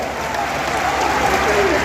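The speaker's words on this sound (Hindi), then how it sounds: "आपकी लड़ाई लड़ रहे हैं देश के लोकतंत्र बचाने के आदरणीय राहुल गांधी जी का जोरदार तालियों से स्वागत करें।" Broad, steady applause from a large rally crowd welcoming Rahul Gandhi at a Congress Lok Sabha election event in Bhind, Madhya Pradesh, loud and continuous with a noisy crowd wash throughout.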